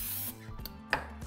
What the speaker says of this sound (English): we're going to open it and we're going to spray it with some nonstick cooking spray